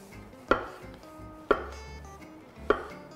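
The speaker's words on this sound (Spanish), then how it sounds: "las setas, mirad, las cortamos así en tiras" A knife cuts mushrooms into strips on a cutting board, three sharp, separate thuds spaced about a second apart, close and clear with no talking.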